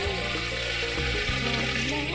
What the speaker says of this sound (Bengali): আমি ঘিরে ভাজছি।